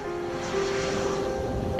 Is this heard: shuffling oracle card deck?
no